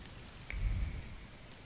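In the video game The Thaumaturge, rain patters softly and a low thunder rumble swells briefly near the middle before fading back into the quiet downpour.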